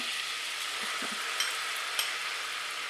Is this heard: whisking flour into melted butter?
yes